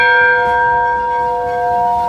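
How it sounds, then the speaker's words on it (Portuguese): The church bell of the Capela do Rosário in São Tomás de Aquino, Minas Gerais, rings with a loud, close, sustained metallic tone whose layered overtones hum and slowly fade, with no voices. "Esse sino que tantas vezes foi batido, toca mais uma vez hoje."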